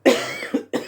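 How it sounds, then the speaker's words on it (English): Three sharp allergy coughs in a row, close and fairly loud, with short pauses between them and no talking. "Little bit of dust and I'm off coughing."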